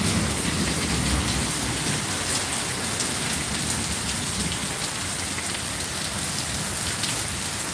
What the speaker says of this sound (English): It's just rain now.